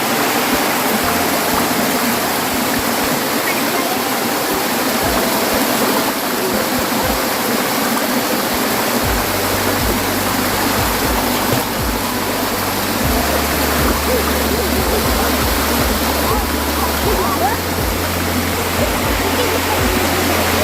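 Busay Falls roars as a steady, loud wash of falling water, continuous and close with no pauses, filling the whole scene with broadband rushing noise.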